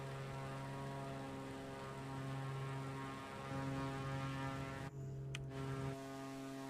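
Airbus A320neo in a flight simulator game, a steady droning engine hum with sustained tonal lines, briefly cutting out before resuming at moderate volume.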